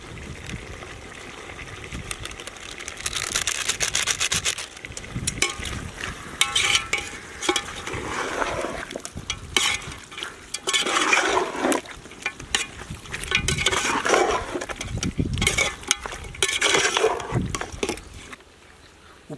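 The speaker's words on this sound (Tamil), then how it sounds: "கொஞ்சமாக மஞ்சத்தூள் ஆட் பண்ணி மிக்ஸ் பண்ணி விட்டுக்கலாம்." Chicken gravy with turmeric is stirred in a pan in a village kitchen, giving continuous scraping and wet sloshing strokes with a faint sizzle, fairly close and irregular in rhythm.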